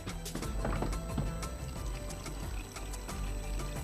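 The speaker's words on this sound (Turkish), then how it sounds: "Buradan biraz su veriyoruz." Water is poured into strawberry lemonade at close range, a short splashing stream with clinking and knocking of the container mixed in.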